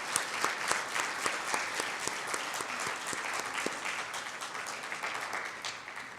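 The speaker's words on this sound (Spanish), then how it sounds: "Dale un aplauso al Señor." A church congregation applauding together, a dense, even patter of many hands that holds steady throughout at moderate distance.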